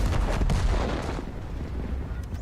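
A tank cannon shot from an AMX 50 B in World of Tanks, a heavy booming blast with a dense low rumble that fades over a couple of seconds.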